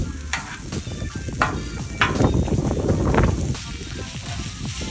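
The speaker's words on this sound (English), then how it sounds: "Throw it on the griddle to get it nice and toasted." Bulgogi cheesesteak sizzles steadily on a Blackstone griddle, a continuous close frying hiss broken by scraping spatula strokes and light metallic clicks, with no voices.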